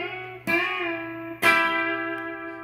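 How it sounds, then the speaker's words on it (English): Electric guitar lick with both strings bent up a whole step together, two picked attacks ringing out with sustained, gliding bent notes, played alone and fairly close. "We're gonna bend both strings a whole step"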